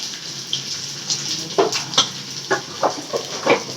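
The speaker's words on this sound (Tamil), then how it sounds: "அப்புறம் நெய் கொஞ்சம் தாளிக்கிறப்போ ஊற்றிக்கோங்கப்பா" Ghee sizzling in a pan while tempering spinach (siru keerai) for a Tamil kootu, a soft hissing fry broken by a run of crisp spattering pops and stirring clicks spaced through the clip.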